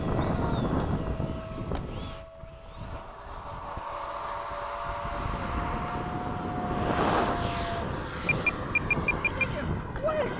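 A Freewing 70mm F-35 RC jet flies at an airfield with a steady whining ducted-fan roar that swells and fades as it passes, while people talk nearby.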